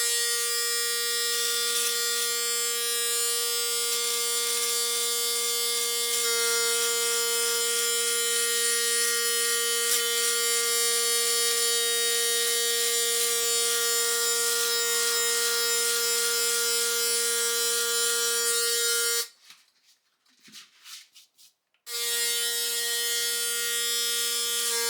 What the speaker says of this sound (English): the remaining part will be shaved off with the shaver